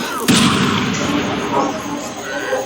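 A bomb goes off in the Castlevania video game with a sudden boom and a rumbling tail that fades slowly, while people talk over it.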